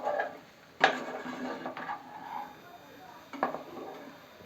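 A spoon stirs cauliflower egg curry with green chili powder in a pan, making a few scraping sweeps and sharp metallic knocks against the pan's side, close and moderately loud.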